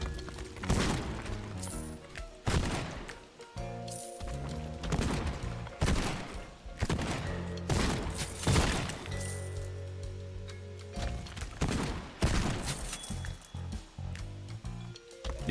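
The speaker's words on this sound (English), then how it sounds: "this shotgun's honestly one of my favorites" Shotgun fire in Borderlands 2: loud, rapid blasts repeat throughout with crackling impacts and shattering debris between shots.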